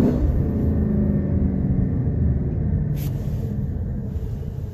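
A 2018 Lexus LC 500 on the road, heard as a steady, deep engine and road rumble that holds fairly even throughout, with no talking.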